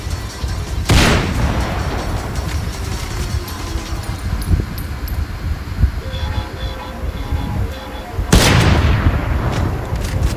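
Gunfire in Minecraft's Modern Military mode, a sharp broadband blast near the start and another near the end, with low rumbling booms and battle noise in between.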